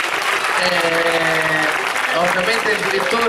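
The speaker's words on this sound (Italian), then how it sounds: "Io farei anche un applauso." An audience at an award ceremony for best entertainment, Barceló 2013-2014, applauds in a dense, continuous wash of clapping, while someone speaks in Italian over it.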